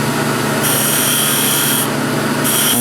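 Sanding inside a hollow wooden sphere gives a close, steady abrasive rasp, its pitch brightening in two bursts as a power sander presses against the curved interior wall.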